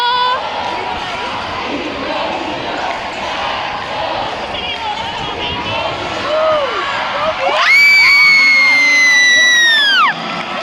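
A packed crowd at a UAAP college basketball game between NU and AdU roars throughout, with shouting and cheering and a sudden high-pitched collective scream rising loudly near the end, plus a loud horn-like tone; people talk close by.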